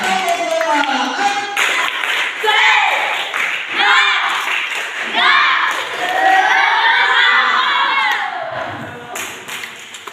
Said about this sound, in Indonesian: Tepuk semangat semuanya.